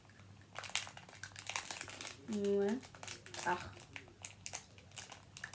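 A plastic clothing package bag gets torn open with teeth, giving a short, loud crinkling rip in the middle, surrounded by rustling plastic and brief spoken interjections.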